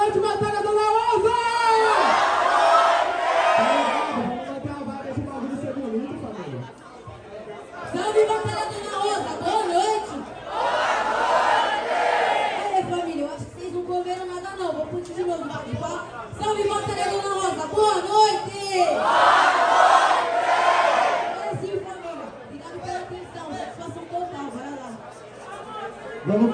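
A street rap battle crowd in Brazil shouting back in loud collective bursts that rise and fall in waves, with many voices yelling together and chatter between surges.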